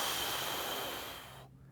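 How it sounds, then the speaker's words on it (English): A forceful, breathy exhale during a barbell curl, heard close up as a steady rushing hiss that fades and cuts off into quiet. "So it looks like this. Exhale."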